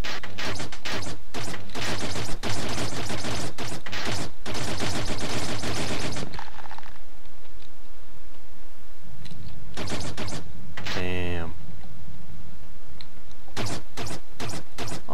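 Gunfire from enemies in the video game Another World, loud rapid bursts of sharp repeated shots in dense volleys, broken by short lulls with a whooshing energy blast and further firing.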